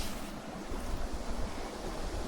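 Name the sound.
small seasonal stream flowing near a swampy construction site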